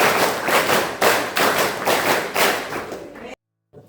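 Students at SMAN 1 Kota Serang do two rounds of the fifth clap pattern, a steady series of about eight loud group claps in rhythm that stops abruptly into silence.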